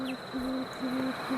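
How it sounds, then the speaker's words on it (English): Tawny frogmouth giving a low, steady whooping call in an Australian backyard at night: four evenly spaced, sustained hoots repeated in a slow rhythm, moderately close and fairly quiet against a soft night background with no talking. "they will make this kind of strange and calming whooping noise"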